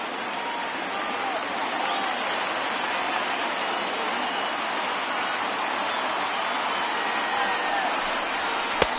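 A baseball video game crowd of over 39,000 on their feet, a dense continuous roar of cheering and applause that stays steady and loud throughout.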